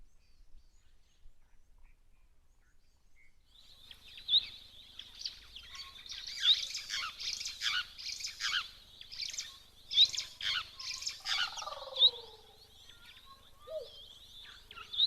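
Small birds, white-browed sparrow weavers and grey-headed sparrows at a Kenyan waterhole, chatter in bright, busy bursts of chirps and tweets, fairly close and overlapping, after a few quiet seconds at the start.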